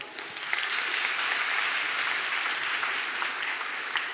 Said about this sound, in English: Applause for politics.